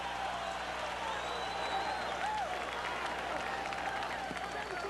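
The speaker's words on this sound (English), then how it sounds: "Forum crowd rises to its feet after a brilliant fourth round" A boxing crowd at the Forum rises and applauds after a fierce fourth round, a dense, sustained roar of clapping and cheering with a commentator's voice faintly over it.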